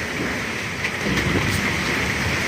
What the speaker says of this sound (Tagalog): Umulan na talaga.